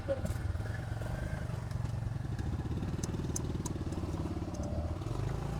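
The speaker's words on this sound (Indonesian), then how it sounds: "kalau agak bising karena bengkel lagi ada customer ya Bang Arul." Steady engine rumble of a Kawasaki W175L motorcycle running nearby, with scattered clanks and clatter of a busy workshop and faint voices underneath.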